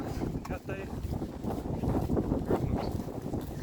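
Gusty wind buffets the microphone in low, uneven roars on a mountain hike up Biokovo, Croatia, with faint voices mixed in beneath the blustery noise.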